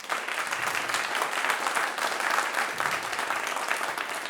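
A conference audience gives a round of applause for a speaker after a talk on dynamic phase alignment in audio, steady dense clapping that stays even and full for its whole length.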